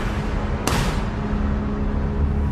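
A single sharp gunshot cracks out early on a New Orleans street in the morning, then a lingering low rumble and steady background hum follow, with no voices.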